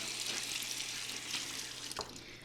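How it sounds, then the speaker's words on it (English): Water squeezed out of a wet beauty blender makeup sponge over a sink, a steady close wet hiss and trickle lasting throughout, with a brief squelch near the end. "I'll squeeze out all that water"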